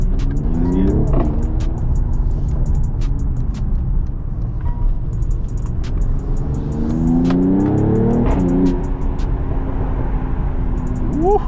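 A 420-plus horsepower Mercedes-AMG in sport mode with its exhaust open revs and accelerates on a downtown Toronto street, the engine note climbing in loud, rising sweeps, then dropping and surging again in repeated pulls, heard from inside the car.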